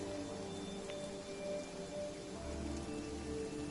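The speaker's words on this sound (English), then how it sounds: "it's already raining" Rain falling in the video game Divinity: Original Sin, a soft, steady patter of drops on surfaces with a faint low rumble underneath, even and unbroken, with no one talking.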